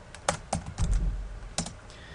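Fingers tap out Python tkinter code on a computer keyboard in a short, uneven burst of crisp, close keystrokes, with a low thud partway through and no talk.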